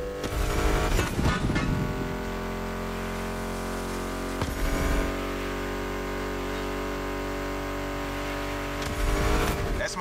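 Muscle car engines in The Crew Motorfest drone at steady revs, with bursts of louder acceleration roughly every few seconds, close and continuous with no talking.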